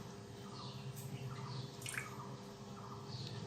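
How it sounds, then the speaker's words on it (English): Thin water drained off the top of cooked lentils (dal) is poured slowly into a bowl, giving a soft, steady trickle and faint drips close by with no talking. "I will try to put this water of the dal in this bowl"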